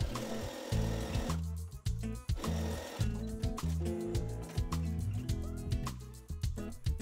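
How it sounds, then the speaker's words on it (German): A sewing machine stitches a curved seam around a pocket lining on a skort, running steadily in close, loud mechanical bursts with brief pauses and no talking. "dann nähe ich nur einmal mit einer schönen Kurve um unseren Futterbeutel bis ganz oben zur Kante"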